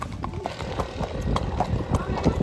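Horses walk along with steady clip-clopping hooves at close range, while people talk over the rhythmic footfalls in a village preparing for a country festival.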